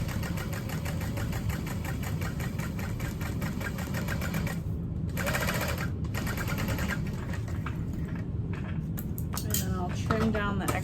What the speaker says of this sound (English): And then I'm just basting the extreme outer edge of this.